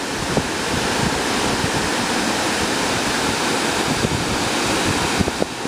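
Steady, loud rushing of Laurel Creek Falls in Tennessee, a constant broadband roar of falling water with no pauses, heard up close.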